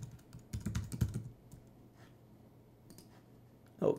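Typing on a computer keyboard: a short burst of several quick, soft key clicks near the start, a few scattered taps, then one louder key press at the end, close and quiet.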